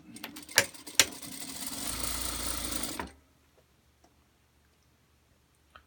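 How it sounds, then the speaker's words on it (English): A sewing machine stitches a bag lining in one close run of about two seconds, preceded by a few mechanical clicks, then stops into near silence with faint ticks. "So we're sewing the lining now the same way we sewed the bag, except no pocket."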